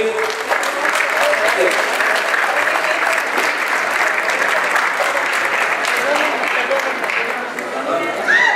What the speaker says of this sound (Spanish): Un aplauso para la presidenta del DIF.